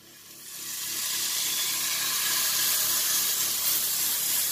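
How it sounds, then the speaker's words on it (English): A ribeye steak sizzles steadily in a hot frying pan, starting a little quieter and building to a loud, continuous hiss and crackle. "Let's get this ribeye in this pan."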